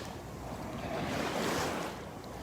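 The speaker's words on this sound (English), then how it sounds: "A bit of wave action here." Ocean surf rolls onto the beach in North Naples, Florida, a steady broadband wash of breaking waves that swells slightly toward the middle, with some wind noise and no talking.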